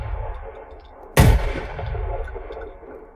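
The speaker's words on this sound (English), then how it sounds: "This is our FAS-12 from the Modern Warfare 3. It's a 12-gauge shotgun, right?" The FAS-12 12-gauge shotgun from the Modern Warfare 3 game fires one sharp, loud blast. The shot booms and then fades in a rumbling tail over a low background.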